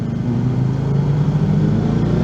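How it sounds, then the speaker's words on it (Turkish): A Porsche engine being revved on narrow roads while the driver works the gas and brake together, giving a steady, close, low rumbling drone with no talk over it. "Biraz böyle motorun sesini duymak istemiş herhalde."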